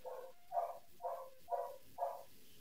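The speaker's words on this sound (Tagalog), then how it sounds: "Pasensya na kung may marinig ulit kayong tahol ng aso." A dog barks five times in an even rhythm, each bark roughly half a second apart, faint and somewhat distant in an otherwise quiet indoor setting.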